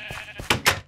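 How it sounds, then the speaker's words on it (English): Two short, bright bleats from Minecraft sheep ring out close together, loud and clear over faint game background. "All the blue sheeps!"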